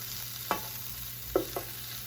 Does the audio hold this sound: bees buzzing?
no